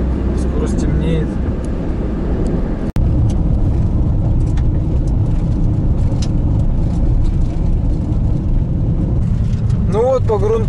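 A kei car travels a dirt road at about 50 km/h on inflated tyres, giving a steady loud road rumble and engine drone throughout, broken by one sharp knock near the start, with a person talking over it.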